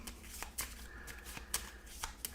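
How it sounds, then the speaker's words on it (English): Board game tiles are shuffled by hand on a table, a run of quick clattering rattles and clicks in irregular bursts, close and fairly quiet. "Just shuffling this up."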